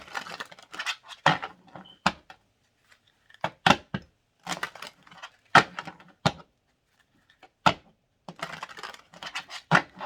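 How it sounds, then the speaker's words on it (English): Tarot cards shuffled by hand close up, giving a series of quick crisp riffles and soft slaps in irregular bursts with short silent pauses between them. "I'm just going to shuffle these cards."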